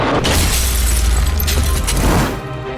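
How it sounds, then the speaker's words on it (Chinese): A light bulb explodes in a loud, dense burst with a booming low end and crackling, shattering texture that holds for a couple of seconds before cutting off. "灯泡爆炸了"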